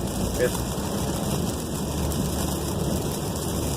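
Rain and wet-road noise heard from inside a moving Volkswagen Tiguan: a steady, dense hiss of tyres and water spray under a low cabin rumble, continuous and even for the whole stretch.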